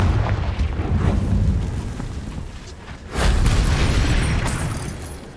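Confringo spell explosions in Hogwarts Legacy, a deep rumbling boom that fades, then a second loud blast with a sharp onset and a long rolling tail.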